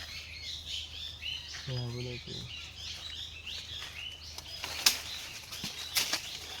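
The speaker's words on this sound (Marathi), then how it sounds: "पोपट बघ" Outdoors near a dam, a parrot gives a brief harsh squawk followed by wingbeats and faint chirps, with people talking and laughing around it.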